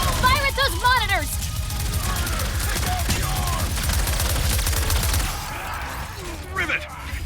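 Sustained gunfire and weapon blasts in the Ratchet & Clank Rift Apart video game during a boss fight, dense and continuous with a heavy low rumble, while characters' voices and game effects chirp over the top.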